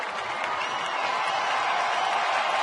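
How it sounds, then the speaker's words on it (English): A modest patch of applause rises from a baseball crowd along the right side of the infield, a steady wash of clapping and crowd noise heard from a distance. "And a little applause from the right side of the infield."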